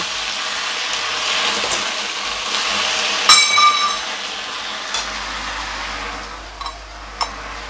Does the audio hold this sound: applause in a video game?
no